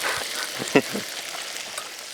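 Steady, close sizzle of food frying in a hot cast iron pan, with a brief clink of a utensil near the start.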